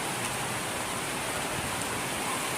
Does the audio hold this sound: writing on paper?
no